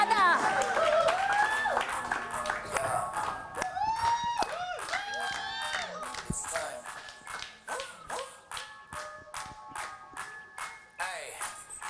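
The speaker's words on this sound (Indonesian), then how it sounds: "Oke, kita tepuk tangan dulu." Studio audience applause on an Indonesian gossip talk show, a dense run of claps that thins into sharper, more separate claps, with a host talking and music tones over it.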